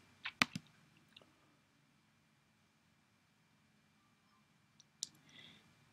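Computer mouse clicks while uploading to YouTube, a quick cluster of sharp clicks at the start, then a long quiet stretch and a few more clicks near the end, close and faint.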